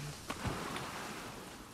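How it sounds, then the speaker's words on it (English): Heavy rain in The Last of Us Part II, a steady wash of hissing downpour that stays soft and even throughout, with a couple of faint knocks early on. "It's absolutely chucking it down with rain."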